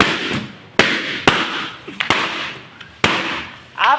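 Firecrackers go off at a New Year celebration: about five loud, sharp bangs at irregular intervals, close by, each followed by a brief crackling decay.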